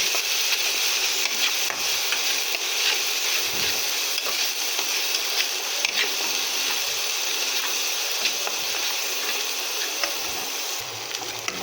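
Ground chili, cumin and coriander powder fry in oil for an egg and potato curry, making a continuous bright hiss and sizzle with faint stirring scrapes throughout, close up and without voices.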